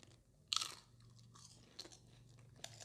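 Crunchy chewing of spicy papaya salad close to the mic, with a sharp crisp bite followed by softer, rhythmic crunches and a faint hum underneath.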